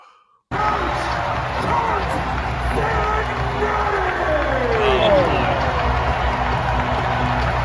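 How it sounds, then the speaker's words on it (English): An Indiana college basketball crowd being fired up by a coach roars in a big arena, with shouts rising and falling over a steady wash of cheering that runs unbroken after a short lead-in. "I got to play this clip from an Indiana basketball game of Curt firing up the crowd"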